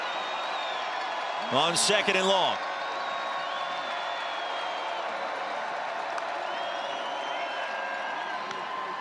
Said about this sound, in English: Crowd is in it